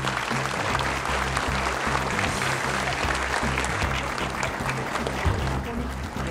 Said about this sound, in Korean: 뜨거운 박수 한 번 더